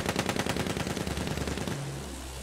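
Rapid automatic gunfire in Battlefield 1, a fast continuous burst of shots that stops abruptly, followed by a low rumbling tail.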